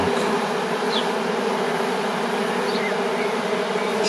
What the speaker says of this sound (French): ici il y a tout un tas d'abeilles qui battent leur appel.